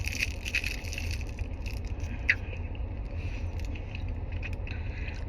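Close, steady chewing and crunching of a hard, sweet traditional Kerala candy, with faint crackling bites repeating throughout and one sharper crack midway, with no talking.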